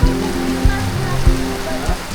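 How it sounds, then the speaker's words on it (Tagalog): Nonstop heavy rain falls at a campsite during a typhoon in Baguio, a steady broadband wash of water with a few louder low thumps of drops or gusts recurring about every half second, continuous and close. "Medyo matubig, gawa nga ng walang tigil ang pag-ulan."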